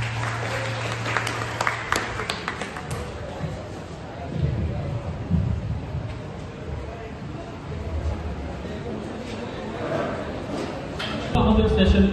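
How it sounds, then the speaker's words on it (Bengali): Applause from a seminar audience at a degree college welcoming guests, clapping rising and falling in waves for several seconds, with some voices mixed in. "হাততালি দিয়ে বরণ করে নিই"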